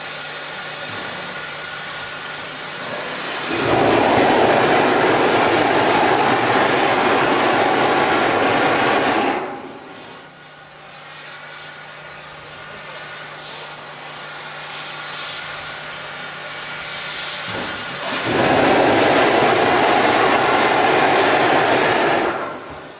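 Baldwin-built 1921 P-8 class Pacific steam locomotive 2472, a Southern Pacific engine with 73-inch drivers, runs through Niles Canyon, its loud, heavy roar swelling in two long passages with a quieter, lower rumble between them.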